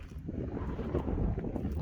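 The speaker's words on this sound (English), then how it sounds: "And pretty windy." Wind blows across the open Simpson Desert on a hot day, a steady rushing buffet against the microphone with gusty swells and no voices.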